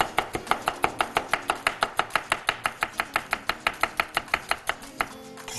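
A knife chops green onions on a board in quick, even strokes, roughly five per second, crisp and close with no talking.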